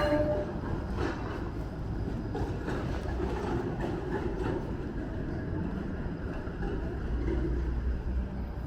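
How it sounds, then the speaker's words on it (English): A Toronto 501 Queen streetcar rolls along its tracks, giving a steady, fairly close low rumble with faint rhythmic clatter and no speech. "This is the 501 Queen streetcar."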